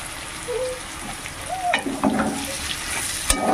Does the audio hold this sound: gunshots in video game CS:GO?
no